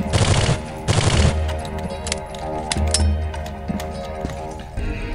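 Gunfire in Soldier of Fortune 2: Double Helix at a market, bursts of shots and sharp cracks with clattering impacts, loud and near, continuing in an uneven stream over several seconds.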